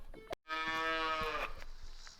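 A dairy cow lets out one long, loud, close moo in a farm barn, preceded by a brief bump and followed by faint farmyard rustling.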